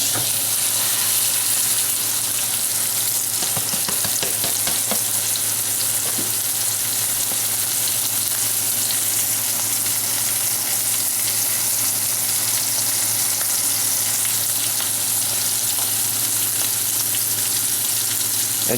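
Beef chuck roast sears in a hot pan with a loud, steady sizzle that holds for the whole stretch, broken only by a few sharp crackles and spits.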